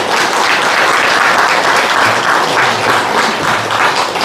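Enthusiastic audience clapping for the Jeju Buddhist youth association president at a Buddhist meditation talk, a dense, loud, sustained applause from a sizable crowd filling the room for about four seconds without speech.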